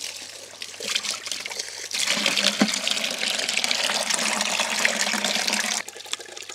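Water rushes steadily into a ram pump system, a loud continuous churning flow that surges stronger after the first couple of seconds and then eases near the end.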